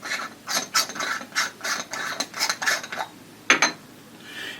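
A field flattener being screwed onto a telescope imaging rig, giving a series of quick metallic ratcheting, scraping turns in short bursts, fairly close and with no talking.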